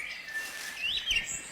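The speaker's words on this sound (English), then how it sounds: "The crow calls down a young family member for some one-to-one tuition." A New Caledonian crow gives a short, fairly faint call, a rising nasal note or two over soft background hiss.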